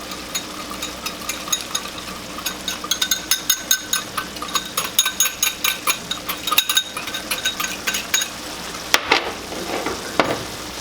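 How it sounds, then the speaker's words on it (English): Cornstarch being stirred into a simmering meat pie filling in a pot, with a steady rhythm of scraping, squelching strokes over a soft bubbling sizzle and no talking. "we're going to go ahead and stir in this cornstarch"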